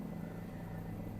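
A helicopter in flight at high altitude over Nubra Valley, Ladakh, gives a steady, droning rotor and engine hum with a low throbbing pulse, continuous and close throughout.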